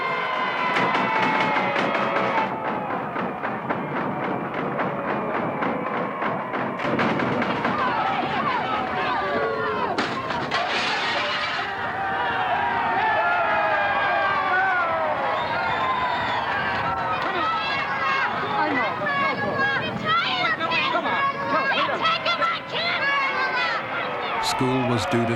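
A protesting crowd in Boston chases Senator Kennedy, raising a loud, continuous roar of shouting and jeering voices that surges and churns without letup throughout.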